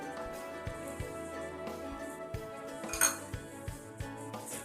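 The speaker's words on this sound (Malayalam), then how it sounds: "പെട്ടെന്ന് തന്നെ ഇളക്കി" A spoon stirs chili powder into fried garlic and shallots in a pan for a Kerala varattiya chammanthi, giving light metallic scrapes and clinks with one sharper knock, under a steady tonal background.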